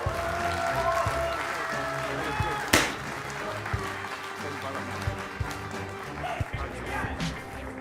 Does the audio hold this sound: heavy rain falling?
no